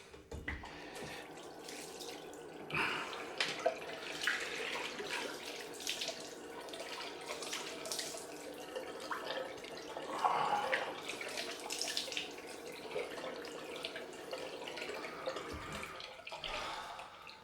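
Tap water runs steadily into a sink for a cold rinse after a shave with a Feather AS-D2 razor, a constant close splashing stream with a few brief knocks and shifts in the flow, with no talk.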